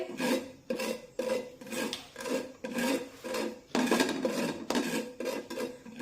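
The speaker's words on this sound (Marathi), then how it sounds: "आता गॅसची फ्लेम अगदी मंद ठेवूया आणि मंद आचेवर ही खसखस भाजून घेऊया" Poppy seeds stirred and roasted in a pan over a low gas flame, giving a rhythmic, close scraping and rasping as a spatula sweeps the pan in repeated strokes, with no talking.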